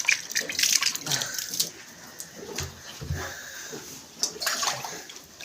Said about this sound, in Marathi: पाणी जरा मारून घेतो.